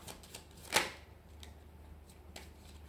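Tarot cards being shuffled, with one sharp riffle-like burst near the start and a few soft, faint card rustles afterward, no talk.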